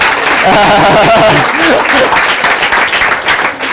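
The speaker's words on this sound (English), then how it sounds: "give them a round of applause" A burst of loud applause from a crowd, with voices calling out over the clapping.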